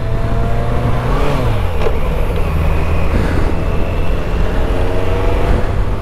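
A BMW K100RS motorcycle engine runs loud and close while gears are changed, holding a steady drone with rising and falling pitch as the revs shift.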